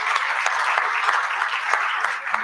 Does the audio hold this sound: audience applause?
yes